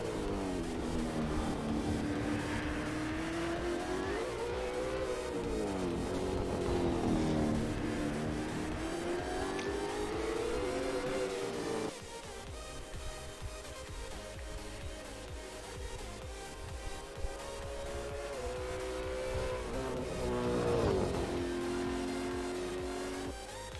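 Holden Commodore Supercar engine in a sim racing game, a loud continuous race-engine drone rising and falling through gear changes and revs, steady throughout with a brief shift in tone midway and no talk.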